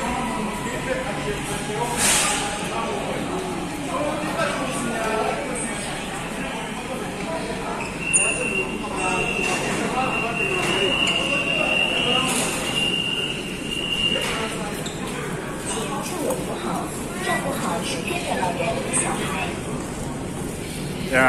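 A subway train in China at the end of the line, with rumbling wheels, hissing air and a drawn-out wheel squeal, and voices talking through the din.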